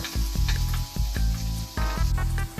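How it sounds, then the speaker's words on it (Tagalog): Garlic sautés in sesame oil in a wok with a steady close sizzle, broken by a few soft rhythmic thumps and stirring noises. "Saute the garlic."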